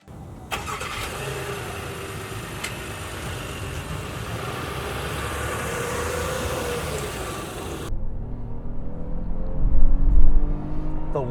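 A 2023 Honda Pilot Trailsport's V6 starts and settles into a steady idle, then revs in a few rising pulls, close and fairly loud with no voices.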